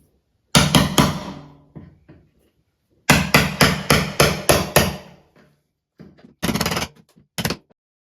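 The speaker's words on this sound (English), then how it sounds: "you can simply take a chisel and a hammer" Sharp metallic hammer blows on a chisel, enlarging a door knob hole in a door, come in quick bursts of three, then five, then a few more strikes, loud and close with ringing decay.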